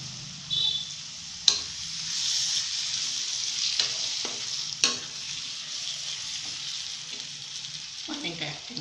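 Chopped raw Totapuri mango goes into a hot frying pan for mango rice, sizzling steadily up close while a spoon stirs with occasional scraping clinks against the pan.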